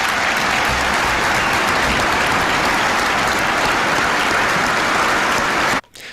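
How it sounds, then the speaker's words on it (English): A large audience at the National Prayer Breakfast applauds steadily, a dense sustained wash of clapping that cuts off abruptly near the end. "A lot of crowd applause,"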